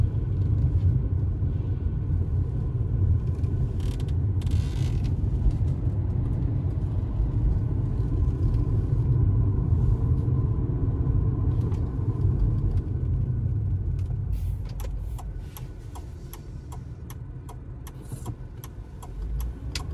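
Car engine held in second gear while accelerating toward the rev limiter, a steady loud low rumble that drones on for most of the stretch, then eases somewhat near the end with faint clicks.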